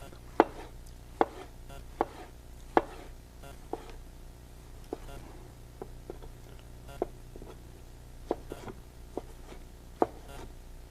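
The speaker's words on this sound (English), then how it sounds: "we do cut a few onions, no, a few tomato" Tomatoes cut with a knife on a board for a seafood fish stew, sharp separate chops spaced about a second apart, close and fairly crisp over a low steady hum.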